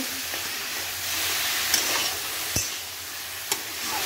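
Mutton frying in a pan with onion and ginger for a tangri soup, a steady close hissing sizzle with a few sharp clacks of a spoon, and no talking.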